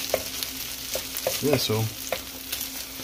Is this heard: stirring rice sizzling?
yes